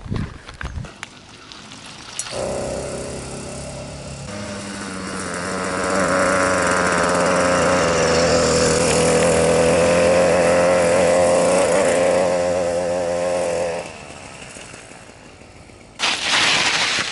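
A 100cc petrol engine fitted to a push bike runs close by, idling roughly, then revving into a loud sustained buzzing drone for several seconds before dropping back down.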